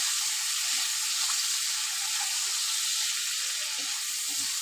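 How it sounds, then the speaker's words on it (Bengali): Fish oil fries in a pan with turmeric and salt, giving a constant close, bright sizzle with faint crackles and no voices. "এবার আমি ভালো করে ভেজে নেব।"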